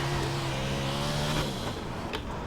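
A Big Block Modified race car engine in iRacing holds a steady high-revving drone, then drops pitch as it lifts off, with faint tire noise toward the end.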